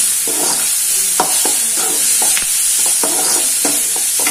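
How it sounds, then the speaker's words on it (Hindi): Tomatoes and salt are stirred in a hot cooking pan, a spoon scraping in repeated strokes over a steady close sizzle, with no talk. "इसके बाद इसे अच्छे से मिक्स करेंगे।"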